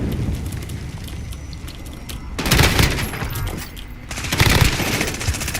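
Gunfire in Call of Duty Warzone, M13 rifle: two loud bursts of rapid shots around the middle and near the end, over a steady background hum of game ambience.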